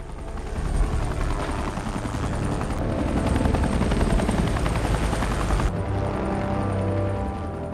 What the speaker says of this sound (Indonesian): Lou menghubungi helikopter untuk membantunya mencari bus yang hilang